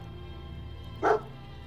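A dog in the video game Fallout 4 gives one short, sharp bark over a low, steady background hum, otherwise quiet.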